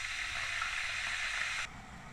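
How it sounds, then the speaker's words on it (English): An electric kettle boiling half a litre of water gives a soft, steady bubbling hiss that cuts off abruptly shortly before the end, leaving a faint low hum. "boil the ½ litre in the kettle"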